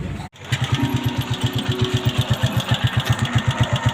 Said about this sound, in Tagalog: nakaandar na natin to. Ito yung motor.